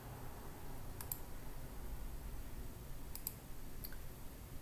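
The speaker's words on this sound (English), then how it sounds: "So I'm going to click on change font." A computer mouse clicks a few times, quiet and sharp, with single and paired clicks spaced apart over a faint room hiss.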